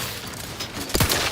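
Gunfire in The Outer Worlds 2 arrives as a brief, punchy volley near the end of a short stretch of steady, noisy game ambience, loud and close with no voices.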